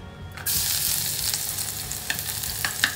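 Garlic drops into hot cooking oil in a pan and bursts into a loud, steady sizzle that keeps crackling close by, with a few sharper pops and stirring scrapes toward the end.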